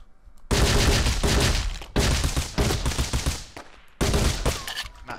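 Gunfire in the video game Rust Legacy, with headshot hits: three loud, dense bursts of rapid shots separated by brief pauses, close and alone with no talking.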